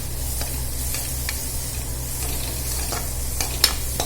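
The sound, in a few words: pasta ingredients sizzling and being stirred in a pan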